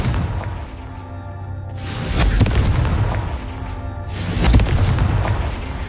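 Spell explosions from Confringo cast in Hogwarts Legacy on PS5, two heavy booming blasts with rumbling low-end tails, loud and alone against a steady game soundscape.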